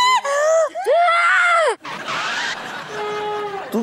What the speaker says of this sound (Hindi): तू क्यों चीख रही है?